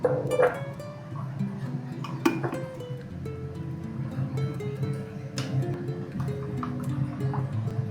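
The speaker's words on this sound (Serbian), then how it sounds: "Dok sipam ovo mešam." Liquid pours into a pot of cooking green beans as they are stirred, with soft drips, splashes and light clinks of a utensil at close range, fairly quiet.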